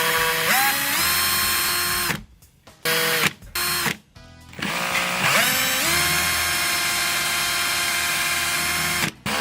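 An electric drill whirring while a cardboard Among Us Skeld map is built, close and loud, running in long sustained bursts with the motor pitch rising as it spins up, broken by short pauses and quick stop-start triggers in the middle.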